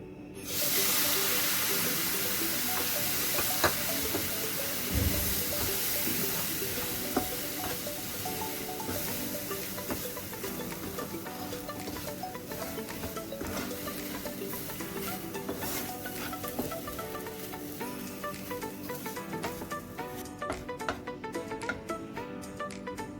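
Grated coconut roasting in a pan for coconut ladoo while being stirred, a steady close sizzle and hiss with scraping strokes running throughout, no voices.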